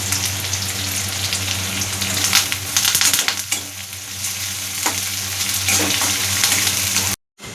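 Green chillies and curry leaves frying in hot oil for lemon rice, a loud steady sizzle with scraping stirs and a brief cut near the end.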